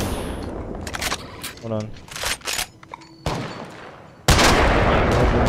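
Gunfire in the video game Apex Legends cracks out in loud bursts and single shots between pauses, followed by a sustained roar of fire, while players talk over the action.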